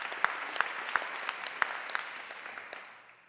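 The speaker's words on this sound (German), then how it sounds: "Bitte Applaus" Light, scattered applause from a modest audience at a German salon talk event, a few sharp claps standing out before it fades away.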